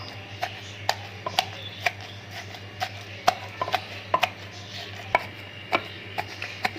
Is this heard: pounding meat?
yes